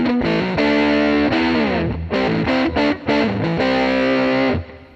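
An electric guitar runs through a preset on a Headrush MX5 pedal, playing loud distorted sustained chords and shifting notes with a chorus-like shimmer, ending as the last chord fades.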